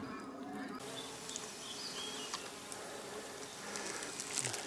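A large colony of dark European black bees, living in rock, gives a faint, steady buzzing hum with occasional soft ticks and brief insect passes nearby.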